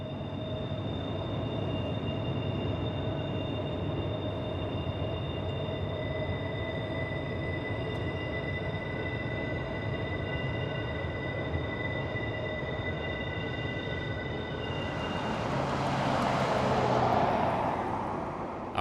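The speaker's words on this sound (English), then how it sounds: "arriving at Horseshoe Curve, just in time to see an autorack train going around" An autorack freight train rounds Horseshoe Curve in Pennsylvania, giving a steady, continuous rumble of rolling cars with sustained wheel tones and squeal, its noise swelling near the end as cars pass closer.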